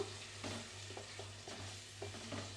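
Masala paste fries quietly in a pan for tomato chicken curry, a soft sizzle with several gentle stirring scrapes and a steady low hum underneath.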